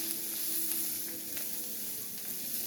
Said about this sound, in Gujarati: ધાણા જીરું, હળદર અને બધું મિક્સ કરી દઈશું.